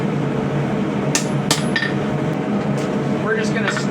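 Light hammer blows ringing on a mini saex knife blade being forged, several sharp metallic taps spaced irregularly over a steady background hum.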